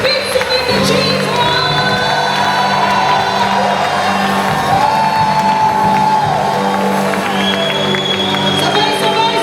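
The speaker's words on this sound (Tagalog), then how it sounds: "A shout of praise and victory to Jesus." A church congregation at an anniversary evening service shouts praise and cheers in a sustained, loud crowd roar with whoops and scattered voices throughout.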